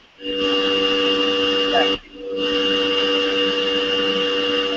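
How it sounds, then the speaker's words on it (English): A vacuum cleaner drones steadily through a home video call, picked up over an open microphone, loud and continuous with a brief dip in the middle before the motor noise resumes. "whoever's vacuuming, mute yourself"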